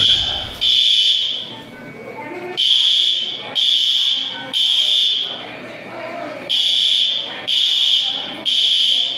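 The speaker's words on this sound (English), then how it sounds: "they can't shut the fire alarm off by themselves" A fire alarm sounds at an Olive Garden restaurant, a loud, piercing electronic tone blaring in repeated bursts of about a second with short gaps. Voices and room noise carry on faintly underneath.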